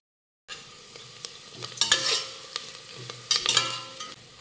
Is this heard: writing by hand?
no